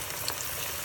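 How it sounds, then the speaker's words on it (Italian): Arancini frying in plenty of hot olive oil over high heat, a dense steady sizzle and crackle heard close up for under a second. "Deve cuocere proprio, si dice cuocere nell'olio"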